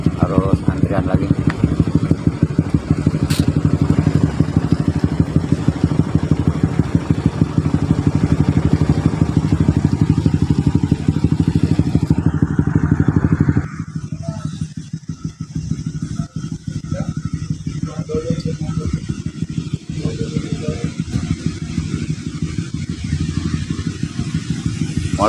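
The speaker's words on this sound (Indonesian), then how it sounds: "Saat melintas di sini memang ada beberapa kendaraan roda 4, roda 6" Motorcycles and four-wheeled vehicles pass along a muddy mountain road on the Piket Nol stretch between Malang and Lumajang, with a loud, steady engine drone that cuts off partway through to quieter rumbling. Voices are present.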